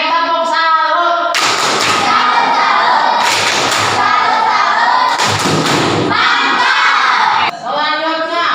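A school class chants the tepuk salut clapping routine in unison, with loud, rhythmic bursts of clapping and shouted children's voices filling the room, broken by short pauses.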